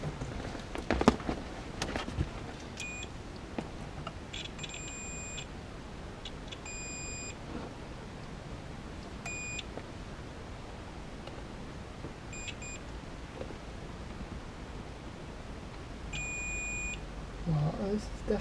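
A continuity tester gives short, high, repeated beeps when probing the horn wiring of a Volvo 850, several separate bursts spread through the stretch with quiet handling noise between, close by.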